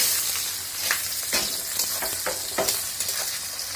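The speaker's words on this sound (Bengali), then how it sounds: "এবার আমি পেঁয়াজ কুচিগুলো দিয়ে দিচ্ছি" Chopped onions sizzle and crackle in a pan of hot oil with whole dried red chillies and black cumin, with steady frying hiss broken by repeated stirring scrapes, close and alone.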